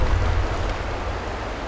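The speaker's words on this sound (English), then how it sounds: "I really can't hear you because the waterfalls are terribly loud." Waterfalls roaring in the video game Skyrim Special Edition, a loud, steady rushing wash of water noise filling the scene with no voices.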